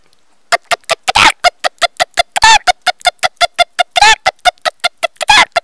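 A voice imitates a domestic chicken with a rapid run of short, sharp clucks in steady rhythm, broken by a few longer squawking calls, loud and close with no other sound.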